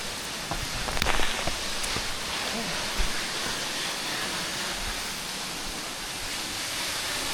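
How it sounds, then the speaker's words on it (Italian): Rain falls steadily on the Sandiaoling waterfall trail, a soft, even hiss with a few close knocks and rustles near the start. It stays faint and unbroken to the end. "Qua piove, quindi devo coprirmi."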